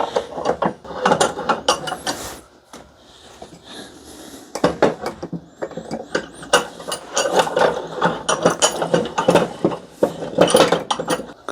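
A Land Cruiser air-conditioning compressor is clamped in a bench vise and worked with a ratchet, producing loud, close bursts of rapid clicking with metallic clanks and short pauses between strokes.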